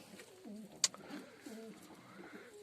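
Domestic pigeons coo softly in a loft where they sit on eggs, with low repeated throaty calls close by and a brief sharp knock in the middle.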